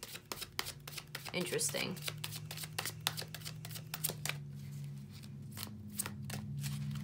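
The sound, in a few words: shuffling tarot cards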